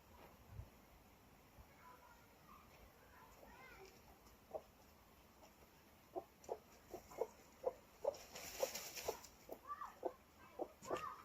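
A broody hen clucking while scratching in its pen, soft repeated clucks that build into a quicker run of close calls, with someone speaking quietly at times.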